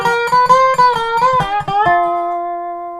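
A quick dobro lick of plucked notes sliding between pitches, played fast, ending on a sustained ringing chord that fades slowly.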